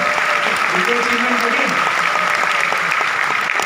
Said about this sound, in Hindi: आप ताली बजा रहे हो?